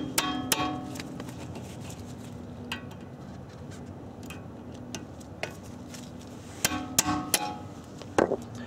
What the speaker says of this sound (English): What you can use is a hand impact set because they're really, really tight.